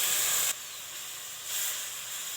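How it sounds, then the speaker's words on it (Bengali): Water poured into a hot pan of turmeric and chili powder, a loud burst of steamy hissing that drops after half a second and continues as a steady sizzle, close and unbroken. "এবার হালকা করে জল দিয়ে দেবো"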